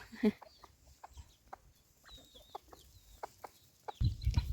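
Chickens cluck softly around a small rural rice-field hut in Thailand, scattered short clucks spaced through the clip over faint background noise, ending in a louder burst of rustling.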